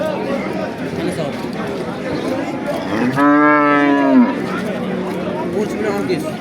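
A cow lets out one long, loud moo amid a busy crowd murmuring and chattering at a livestock market in Kattakurgan.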